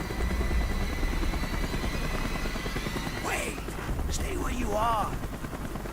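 A helicopter in the Call of Duty: Black Ops video game gives off a steady, loud rotor drone throughout, with brief gunfire bursts and other game effects layered over it.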